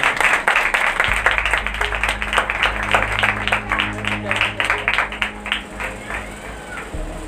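Loud sustained applause and clapping from a church congregation at a Good Friday service, dense rapid claps filling the space over a low organ or keyboard drone that ends partway through.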